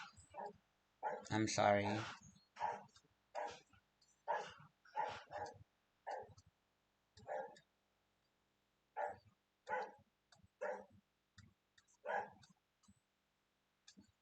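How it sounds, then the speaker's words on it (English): Pet dogs bark at home in short, repeated yaps, some close and loud, with a person talking over and between them. "Oh, there goes my dogs."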